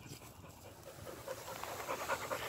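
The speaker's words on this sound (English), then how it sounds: "And I got a dog." A dog pants steadily outdoors among wildflowers, quick breathy rhythm close by, growing slightly louder toward the end, with no talk over it.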